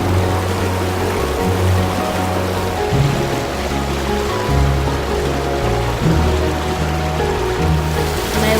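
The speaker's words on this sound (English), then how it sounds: "I found out the name of the creek is Duke's Creek." Duke's Creek flows beside a Georgia hiking trail near Raven Cliff Falls, a loud continuous rush and gurgle of water filling the whole stretch without any talking.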